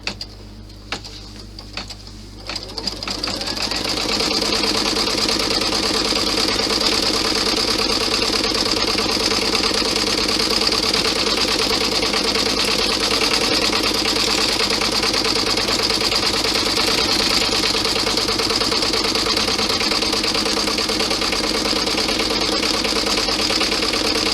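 An embroidery machine stitches a panel onto an A4 sheet of vinyl, starting after a few irregular clicks and then running as a steady, fast, mechanical whirring hum that continues evenly and up close throughout.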